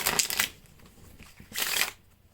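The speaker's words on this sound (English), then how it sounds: "give them a nice, good old shuffle" A deck of Uno cards is shuffled twice in quick riffling bursts, close and crisp with a quiet pause between them.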